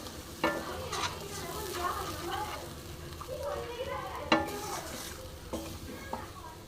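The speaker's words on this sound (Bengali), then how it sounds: "এবার ভালো মতন আমি দইটার সাথে মিশিয়ে নেব" A spoon scrapes and stirs spices with yogurt and Kashmiri chilli powder in a hot pan, with soft sizzling underneath and a few sharp clinks of metal against the pan, all heard close and fairly quiet.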